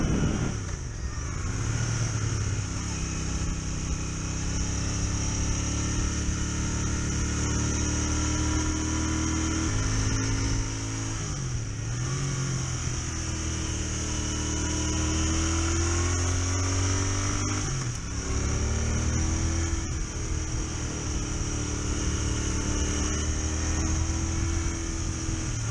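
A car accelerates from inside the cabin: a steady engine drone whose pitch rises and falls through gear changes, with continuous road noise and no talking.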